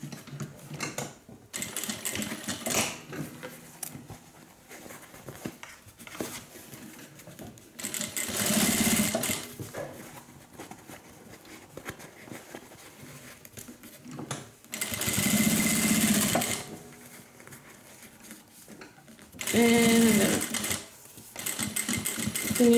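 A sewing machine runs in several bursts, stitching the bulky zipper tabs of a small fabric wristlet at its longest stitch length, with quieter handling sounds between the runs.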